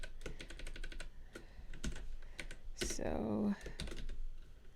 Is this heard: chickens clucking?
no